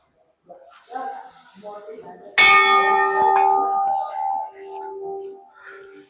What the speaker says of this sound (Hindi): कितनी घंटियां यहाँ लगी हुई हैं, कितनी ही यहाँ पे लगी हुई हैं।